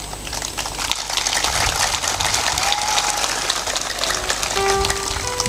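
An audience at a spiritual discourse claps loudly in a steady, dense wash of applause, with faint tonal sounds entering near the end.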